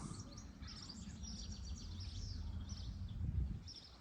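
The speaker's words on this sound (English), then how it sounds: "The bird song." Birds singing in the Peak District countryside near Monyash: several faint, high chirps and twittering phrases from a distance over a constant low rumble of outdoor background noise.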